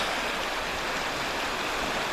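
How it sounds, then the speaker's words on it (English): Harvey Creek, a stream flowing into Sullivan Lake, rushes with a steady, loud broadband wash of water, close by and unbroken throughout. "So Aaron's taking the other side of this stream. This is Harvey Creek"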